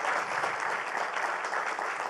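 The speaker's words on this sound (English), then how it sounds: "let's give her a round of applause" A crowd at a public event claps in a brief, dense round of applause for Ms. Edwards, steady and fairly loud with no talk over it.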